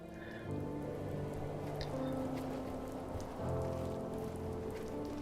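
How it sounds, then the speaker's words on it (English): Rain falls in the video game The First Tree, a soft, even patter of drops on a surface that stays steady throughout, with faint sustained music tones beneath and no speech. "And also apparently the first rain."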